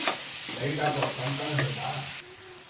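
Okra frying in a pan as it is stirred, a continuous close sizzle with scraping and clattering from the spatula that cuts off abruptly near the end, leaving quieter frying.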